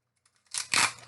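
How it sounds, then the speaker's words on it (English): Adhesive tape pulled off a roll and pressed down while joining pieces of a flower-and-lights gift craft, a short rasping tearing burst after near silence, close and alone. "Let me tape it first."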